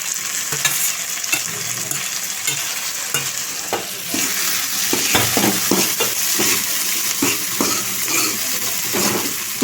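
Small tomato pieces fry for chicken curry with a loud, close sizzle, while a spoon scrapes and stirs the pan in repeated knocks and scrapes, growing busier halfway through.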